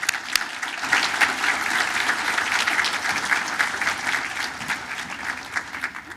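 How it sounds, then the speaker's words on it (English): Audience at a business appreciation breakfast giving a warm round of applause to welcome a speaker, steady and fairly loud from many hands throughout. "So please welcome her with a round of applause."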